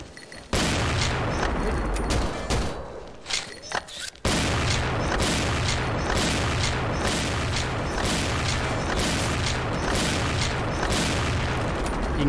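Gunfire and explosions from the shooting video game XSHOT, loud and sustained with repeated booming blasts and rapid shots, a brief lull near the start before the barrage resumes.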